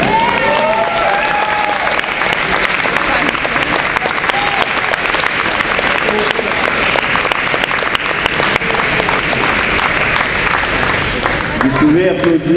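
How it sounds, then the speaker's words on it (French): An audience at an awards ceremony claps loudly and continuously for a winner, a dense sustained wall of applause with a few crowd voices mixed in. "pouvez applaudir Diego non seulement pour son titre, mais aussi pour son costume"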